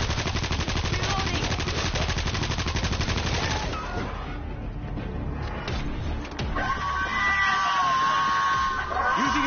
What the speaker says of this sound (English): I got an auto turret running!